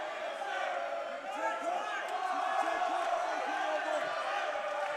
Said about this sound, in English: Crowd of the best supporters of Ben Johnston getting very vocal here, willing him to escape.